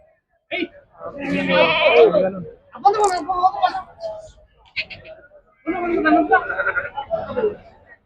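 Sheep bleat in repeated wavering cries at a livestock market in Miryalaguda, a flock of over a hundred, loud and close, in several bursts separated by brief pauses.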